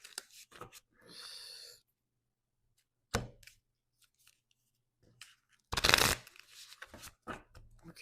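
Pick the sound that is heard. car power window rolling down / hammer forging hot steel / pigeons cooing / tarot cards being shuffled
tarot cards being shuffled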